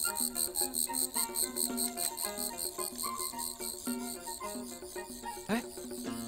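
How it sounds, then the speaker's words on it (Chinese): A katydid (guoguo) kept as a pet chirps close by in a steady, rapid pulsing trill that repeats without pause throughout, with no talking. "这蝈蝈能吃吗？"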